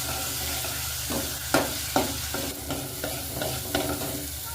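Spiced tempering (phodni) frying in hot oil for dal, a steady close sizzle with several sharp stirring scrapes and spatters spread through it.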